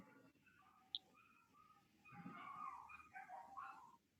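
A small dog whimpers and whines in a few faint high-pitched bursts, with quiet background murmur in a room during a roll call.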